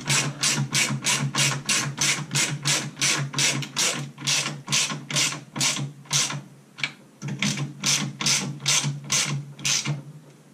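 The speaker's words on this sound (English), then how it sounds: "Okay, torque wrench, 22 Newton meters, 9 foot-pound." A torque wrench ratchets in quick, regular clicking strokes while tightening steering rack bolts to 22 Nm on a Triumph Spitfire 1500, about two dozen close, sharp clicks with a brief pause midway.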